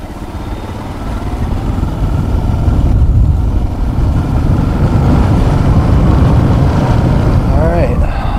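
A Suzuki DR650 motorcycle rides along roads in Guatemala, its engine a loud, steady low rumble with wind buffeting throughout, recorded close from the bike itself.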